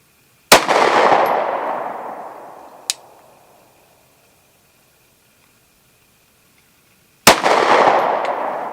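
Glock 26 pistol fired outdoors: two sharp, loud shots several seconds apart, each ringing out into a long fading echo, with a small click between them.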